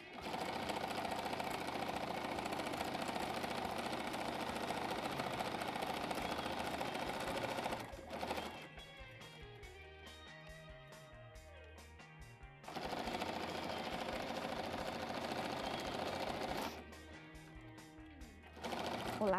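A domestic sewing machine runs close up, making invisible stitches in fast buzzing bursts separated by pauses. Between the runs there is quiet clicking and shifting of the fabric.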